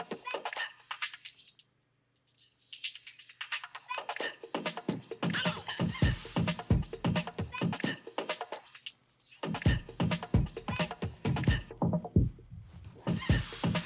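Synth in a live electronic set passed through a high-pass filter, a busy rhythmic pattern of bright clicky hits with the low end sweeping in and out, filter gaps opening and closing across the passage.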